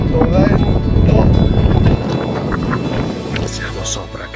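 Strong wind batters a boat circling a tower off the Cabras coast of Sardinia, roaring and buffeting loudly and close, easing a little midway, with a voice talking over it.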